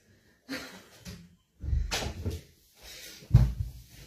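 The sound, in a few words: door being closed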